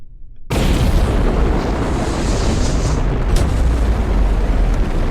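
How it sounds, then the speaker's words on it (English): A rocket launches in the video game Kerbal Space Program: after half a second of near silence, a loud, dense engine roar bursts in and rumbles on steadily without letting up. "in order to get to orbit, we're going to have to launch a rocket"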